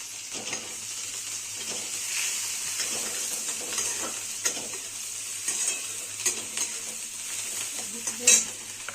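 Onion frying in a pan with coriander and chopped garlic, a soft continuous sizzle punctuated by scattered stirring scrapes and light clinks of a utensil on the pan, one sharper knock near the end, fairly quiet and close, with no talking.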